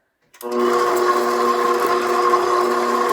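An electric mixer starts up and beats cupcake batter with sprinkles on low speed, a steady close whirring hum with a humming tonal drone that holds evenly after switching on.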